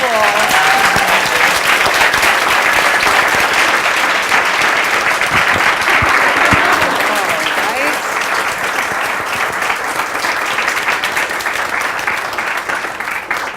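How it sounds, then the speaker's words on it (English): An audience at a book talk on terrorist alliances gives a big, sustained round of applause, loud and continuous throughout, with a few voices briefly audible underneath near the start. "join me again in giving an enormous round of applause"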